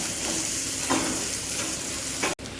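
Beetroot and carrot frying in a wok with panch phoron, a pinch of hing, chopped green chili and ginger make a continuous close sizzle with faint stirring scrapes, cut by a sudden momentary dropout near the end.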